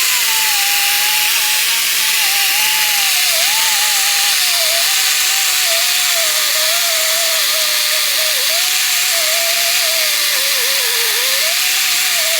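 Grinding wheel working a car engine flywheel surface to clear hot spots, a loud, steady abrasive whine that wavers in pitch throughout, with no talking.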